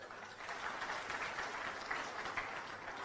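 An audience at a motivational success seminar claps steadily for about three seconds, a soft, fairly distant wash of applause with no talking over it.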